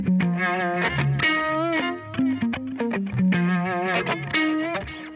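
Electric guitar played through a Univibe effect on a Line 6 Helix, a distorted lead line with a swirling, throbbing chorus-like warble, loud and continuous with no voices.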